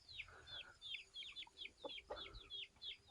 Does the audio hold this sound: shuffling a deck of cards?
no